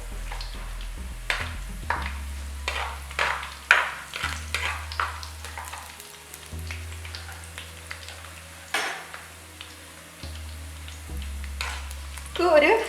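Green chillies hit a hot pan of ginger and garlic with a soft sizzle, while a spoon stirs and scrapes the pan in irregular clinks and a low hum runs beneath.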